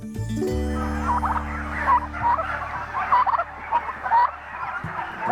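Domestic turkeys on Ashley Farms gobble repeatedly in a rapid, warbling chorus, several birds calling over one another close by, with a low steady hum running underneath.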